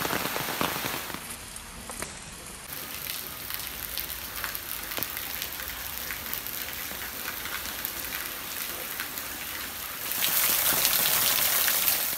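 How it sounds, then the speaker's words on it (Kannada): Rain falls steadily outdoors in a village, a dense patter of drops on surfaces with scattered sharper splashes, swelling heavier toward the end, and no one speaking. "ಇವತ್ತು ಒಳ್ಳೆ ಮಳೆ ಇತ್ತು"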